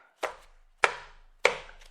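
Three sharp, separate taps of a paper stack knocked against a desk, each a crisp thud with a short decay, spaced about half a second apart.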